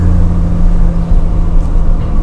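A car being driven on a local road in Samut Prakan, Thailand, with a steady low engine hum and road rumble heard from inside, continuous and moderately loud, with no talking.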